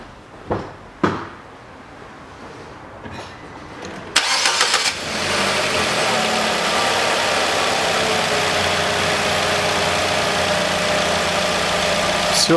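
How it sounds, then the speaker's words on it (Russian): A car engine cranks and catches after a few clicks and knocks, then settles into a steady close idle that runs on alone. "и запускаю двигатель"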